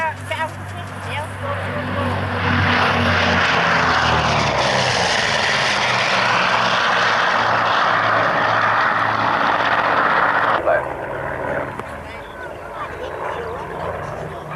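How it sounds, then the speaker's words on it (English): A twin-engine US Navy fighter with two Pratt & Whitney R2800 radial piston engines flies past at an airshow, its loud propeller drone rising and sweeping overhead before cutting off sharply, under a commentator's voice. "the first of the US Navy's twin-engine aircraft to be built in production quantities"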